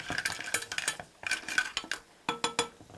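Clams stir-fried in a pan with leftover white fish and shrimp for an Italian seafood dish: close, repeated bursts of shells clattering and scraping against the metal pan, in quick irregular clusters with short pauses between.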